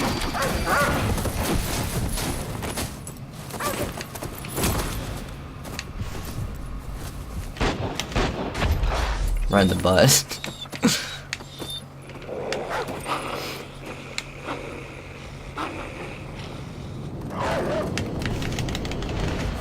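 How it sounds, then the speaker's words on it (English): An attacking dog in Call of Duty Ghosts barks and growls in loud, close bursts amid clattering and scuffling, with a voice speaking briefly. "That dog, you actually can't stop the dog."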